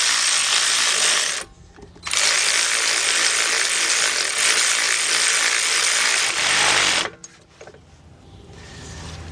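A bolt on a BMW alternator bracket is driven with a power tool in two long, loud whirring bursts at close range, each ending abruptly, with quieter workshop sounds between and after.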